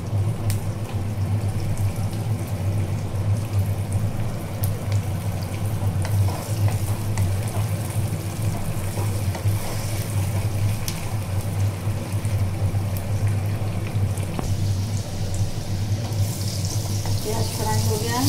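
Onions fry in a pan for a stuffed bitter gourd dish, giving a steady, close sizzle with faint stirring and watery crackle throughout and no clear talk over it.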